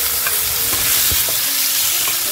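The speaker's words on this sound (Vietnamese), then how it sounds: "Mình sẽ cho tiếp thịt heo vào nha." Pork stir-frying in a pan with golden lemongrass and minced garlic, a steady close sizzle and crackle with occasional scraping of the utensil, continuous with no talking.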